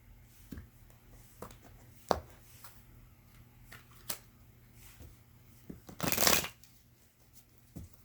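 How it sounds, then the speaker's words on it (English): Tarot cards being shuffled at close range: a few soft riffling taps, then a dense burst of rapid flutter near the end, no voices. "I'm going to shuffle a couple more times"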